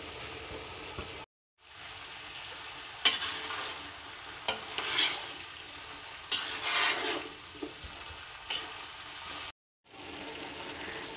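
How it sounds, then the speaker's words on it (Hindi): Kachnar (mountain ebony buds) with beef is stir-fried on a high flame in a pot. A soft sizzle runs under repeated scraping and stirring strokes, with two brief silent gaps. "कचनाल की भुनाई करते हुए हाई फ्लेम पर तकरीबन 3 मिनट हो गए हैं"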